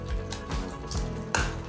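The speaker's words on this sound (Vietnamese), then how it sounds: "Cái dầu mà chiên thịt bò lúc nãy bạn sẽ bỏ hành tím vô" Oil left from frying beef sizzles in a pan, with a steady crackle and a few brief stirring or clinking sounds near the end, close and moderately loud, no talk.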